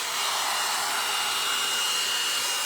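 Loud, steady whoosh of a boar-bristle hot air brush blow-drying hair, blowing continuously at close range, with no talking.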